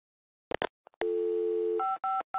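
Telephone dial tone followed by touch-tone dialing from the Encarta 96 CD-ROM: a brief clatter of the handset being lifted, then a steady low tone, then several DTMF key beeps in quick succession, with no speech.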